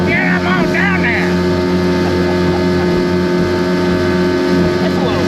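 A 1958 Starcraft Jet-Star motorboat with a rough-running motor drones loudly at speed in a steady, continuous roar, with someone shouting briefly over it at the start.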